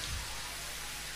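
Steady rain falling at night, a dense even hiss of drops spread across the whole clip, with no voices or other sounds over it.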